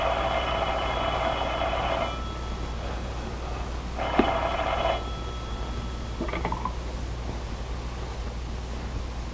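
An old-fashioned telephone bell rings in two bursts of about two seconds each, separated by a pause and followed by a short clipped ring, set against a soft hiss.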